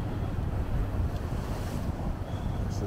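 Ocean water and waves at the Miami Ritz Carlton, a continuous broadband wash of surf mixed with wind rumble on the microphone, steady and fairly loud with no speech.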